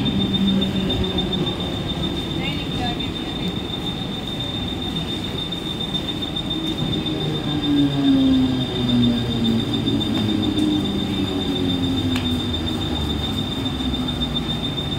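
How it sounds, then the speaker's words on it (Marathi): A Mumbai slow local train rumbles nearby as it arrives at platform 2 of Diva Junction, its wheels squealing in long, shifting tones, with a steady high whine throughout and no voices. "प्लॅटफॉर्म क्रमांक 2 पर आई हुई लोकल 7:22 की मुंबई छत्रपति शिवाजी महाराज टर्मिनस जाने वाली धीमी लोकल है"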